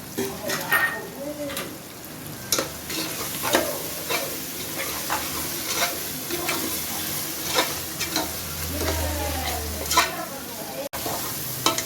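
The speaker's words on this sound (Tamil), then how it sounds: "தக்காளி, வெங்காயம், இஞ்சி பூண்டெல்லாம் நல்லா வதங்கி வந்துடுச்சு" Tomato, onion, ginger-garlic paste and green chilies sauté for a seeraga samba chicken biryani, a steady close sizzle broken by repeated stirring scrapes and clinks of the spoon against the pan.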